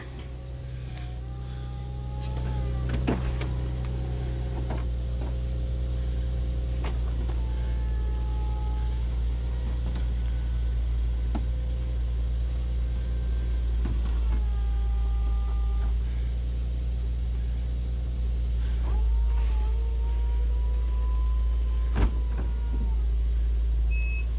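An Infiniti G37 convertible roof motor whirs steadily for a long stretch over a low engine idle, with a few brief clicks and faint high whines along the way.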